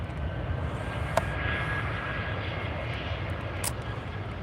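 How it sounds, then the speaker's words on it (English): easyJet airliner arriving from Belfast at Edinburgh Airport, a continuous loud roar of jet engines rumbling steadily over the airfield with no talk. "here's the easyJet from Belfast."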